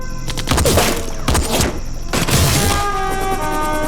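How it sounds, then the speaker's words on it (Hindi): Heavy gunfire and explosions in a movie battle scene, with loud thuds, booms and crackling bursts layered over a dense, rumbling soundtrack. "सर, एनिमी की बहुत हैवी फायरिंग हो रही है सर।"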